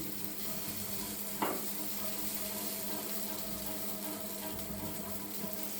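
Appe batter made with chana dal sizzling in an appe pan, a soft, constant frying hiss with a single faint clink early on and no talk.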